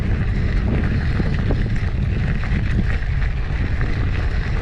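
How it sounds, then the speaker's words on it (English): Strong headwind buffeting the microphone of a cyclist riding a school cross-country trail loop, a steady loud roaring rush of wind noise with no pauses. "we're off into a pretty strong headwind"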